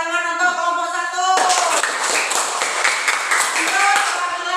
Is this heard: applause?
yes